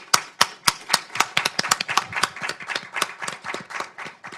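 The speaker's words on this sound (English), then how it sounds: "A round of applause for them, please." Applause from a conference audience at a panel on gender equity, a spread of individual claps that starts sparse and builds into a steady patter, fairly close and alone with no talk over it.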